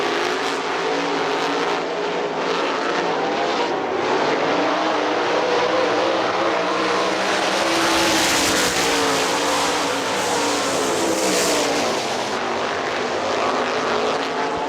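Sprint cars roar around the Hartford Speedway Park oval in an outlaw series heat race, a loud, continuous engine drone that swells and fades as the pack passes close by, without talk.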